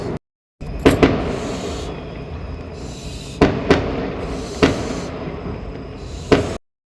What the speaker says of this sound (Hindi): अब हो सकता है शादियों की हो रही हो आतिशबाजी